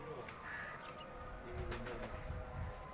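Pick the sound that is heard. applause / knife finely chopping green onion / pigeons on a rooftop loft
pigeons on a rooftop loft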